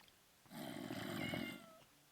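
A cat in Minecraft gives one drawn-out meow of about a second, clear and close, with no talking over it.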